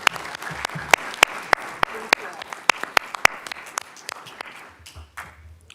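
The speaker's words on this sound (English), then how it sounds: "Big round of applause." Sparse applause at a county commissioners' meeting, a handful of sharp, distinct claps from a small room of attendees, thinning out and fading toward the end, with a voice briefly heard.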